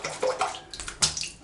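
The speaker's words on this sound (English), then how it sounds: "I'll just wet this brush." Water runs and splashes in short bursts as a shaving brush is wetted at a sink, close and fairly soft, with uneven gushes over about a second and a half.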